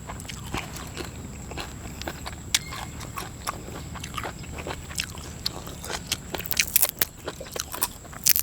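Close, crisp crunching and biting of crunchy shellfish, irregular snaps growing denser toward the end, over a low steady background hum and a faint high whine.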